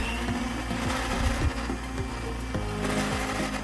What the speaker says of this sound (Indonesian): Kemudian nyalakan kembali mixernya dan kocok adonannya dengan menggunakan speed yang paling